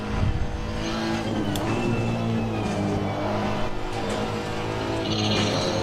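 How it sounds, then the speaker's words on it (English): A Honda race car in the Assetto Corsa Competizione sim, running a long endurance race at Kyalami, drones steadily near high revs, a continuous close engine roar with no pauses. "Honda sounds pretty good actually. When you get to the top of the revs."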